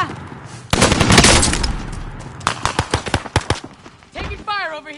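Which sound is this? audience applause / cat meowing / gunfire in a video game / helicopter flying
gunfire in a video game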